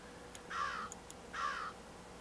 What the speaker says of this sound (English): Crow, you need to shut the hell up for a second.